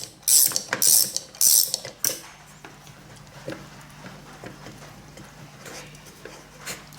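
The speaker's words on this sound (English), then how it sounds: "thread that M6 extension into the rib nut" Metallic ratcheting clicks from threading an M6 extension into a rib nut on a bandsaw being converted from wood to metal cutting: three loud bursts early on, then quieter scattered mechanical ticks.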